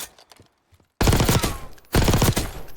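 A Black Ops 6 loadout fires in the firing range in two loud, rapid automatic bursts separated by a short pause, with faint clicks and handling noise before the first burst.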